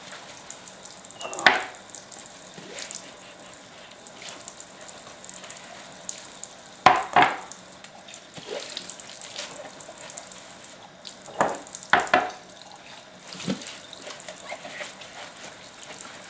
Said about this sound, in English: just soap them inside and out. Set them to my little sink up the left